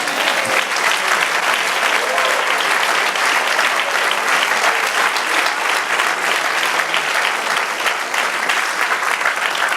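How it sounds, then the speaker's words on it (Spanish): A church congregation applauds during an evening Spanish-language service, a loud, dense and steady clapping that fills the whole stretch without pause. "Dale un aplauso al Señor."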